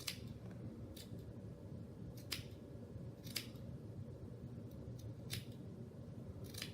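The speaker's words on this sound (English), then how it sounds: "So I snip all the way around like this." Sharp scissors snip through layered paper loops of a Halloween garland, giving about six crisp, close cuts at uneven intervals over a quiet room hum.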